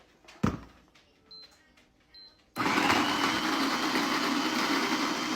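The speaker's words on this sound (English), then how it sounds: "we're just gonna blend it up to a powder" A small blender grinds freeze-dried strawberries into powder, kicking on abruptly after quiet kitchen clatter and then whirring loudly and steadily until the end.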